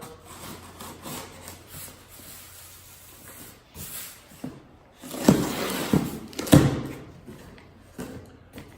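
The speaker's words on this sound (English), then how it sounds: "So we'll cut open the box just like before." A cardboard box holding a steering track bar and drag link is cut open in a garage, with soft scraping followed by a few louder ripping, sawing strokes near the end, close and without speech.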